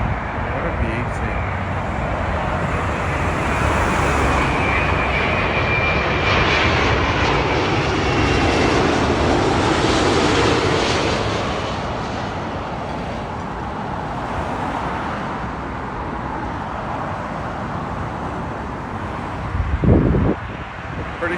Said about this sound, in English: Virgin Atlantic A330 coming in from Boston.